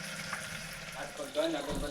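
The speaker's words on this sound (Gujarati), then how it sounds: "હવે આને બે થી ત્રણ મિનિટ માટે સરસ મજાના તેલમાં તળાવા દેવાના" Sliced onion, potato and tomato fry in hot oil in a pan, giving a steady, soft sizzle and crackle that lasts the whole short moment, heard close up.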